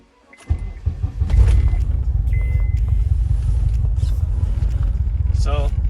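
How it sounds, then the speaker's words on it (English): A Honda Accord engine cranks and catches, then settles into a steady low idle rumble close by, with a brief whine and small clicks over it and a voice heard now and then. "So car is in idle, it's idling right now."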